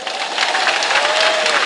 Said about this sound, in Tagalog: Papalakpakin mo lang malakas yan.